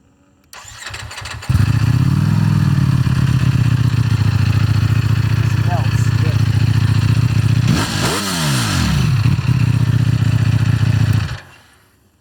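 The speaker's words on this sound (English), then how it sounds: "I would love to hear that engine roar again." A motorcycle engine cranks and starts, then settles into a loud steady idle with a couple of sharp revs near the end before shutting off, heard up close with no talking.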